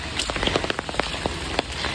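Rain pours down on an empty road, a continuous close wash of noise with many distinct droplet splats popping out irregularly.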